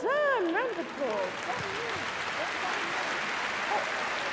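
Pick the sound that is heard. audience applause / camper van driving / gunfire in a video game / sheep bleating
audience applause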